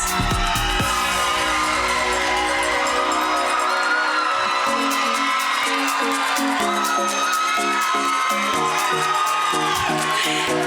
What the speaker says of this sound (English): This crowd is excited.